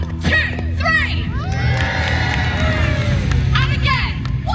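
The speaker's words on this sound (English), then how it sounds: "Let's give our winders some encouragement. After 3, give them a big cheer." A large outdoor crowd, many of them children, cheers and whoops loudly to encourage the winders of a trebuchet at Warwick, with high shrieks and shouts rising over continuous babble.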